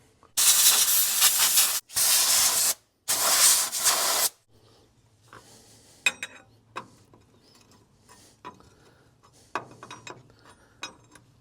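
Compressed air blows dirt off engine parts from a V12 two-stroke Detroit Diesel dump truck in three loud hissing bursts, followed by quieter clinks and handling of parts.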